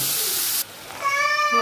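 A pet cat calls out in a home kitchen during cooking, a short bright meow after a burst of hissy sizzling noise, close and fairly clear.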